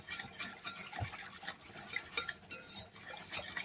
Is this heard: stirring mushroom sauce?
yes